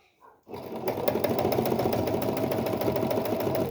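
A domestic sewing machine stitches through a thick seam on a child's vest, starting abruptly and then running as a loud, steady, close-up mechanical whir with a fast rhythmic clatter that holds without pause to the end.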